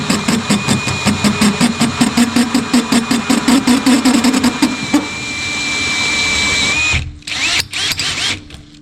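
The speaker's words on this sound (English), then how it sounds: "Hole number 1 is drilled, folks." Power drill boring a hole for a gray water tank on a skoolie school bus conversion, a steady pulsing motor whine that ramps up near and loud, then stops abruptly and gives way to a few clattering knocks.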